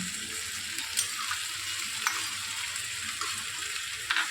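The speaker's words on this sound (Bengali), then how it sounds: "এই কষানোর সময় এবার আমি চিংড়ি মাছটা দিয়ে দেবো।" Prawns fry with potato and pointed gourd in spiced masala, giving a continuous close sizzle with occasional sharp spatters and stirring clinks.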